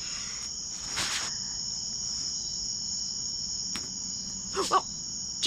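A cricket's steady high-pitched chirr carries on without a break throughout, with a few brief rustles and knocks nearby and no voices.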